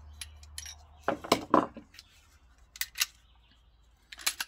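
Metal parts of a Sig Sauer P365 pistol are handled during a ported barrel swap, giving sparse close clicks, clacks and light metallic scrapes with quiet gaps between them.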